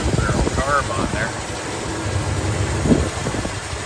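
A 1971 Chevrolet El Camino with a hand choke runs at a steady idle, a close, even engine rumble under a voice as he talks over it.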